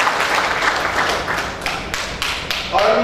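A seminar audience in a large marriage hall applauds steadily, a dense wash of many hands with a few sharper, louder claps standing out, and no voices on top.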